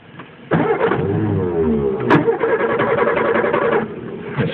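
A 1956 Ford Prefect 100E with a sticking starter cranks its engine, a sudden rough whirring grind that runs for a few seconds, loud and close, with a brief clunk partway through.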